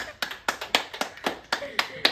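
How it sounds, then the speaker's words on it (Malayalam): A small family group at home claps in slow, evenly spaced, sharp beats, about nine claps close to the mic, with no one talking over them. "എല്ലാരും ഒന്ന് ക്ലാപ്പ് ചെയ്യ്."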